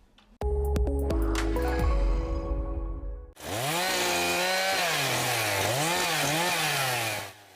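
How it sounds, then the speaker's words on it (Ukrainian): Loud petrol chainsaws cut fallen dry and diseased trees in a forest, with short revving bursts and engine pitch rising and falling as the blades bite into wood, close and continuous. "Повалені сухі та хворі дерева лісівники ріжуть бензопилами."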